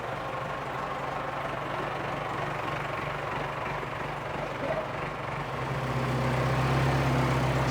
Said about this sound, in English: all there is left to do now is hoist the engine out with the tractor